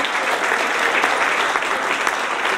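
Steady applause from a crowd, dense clapping at a constant level throughout, filling the room.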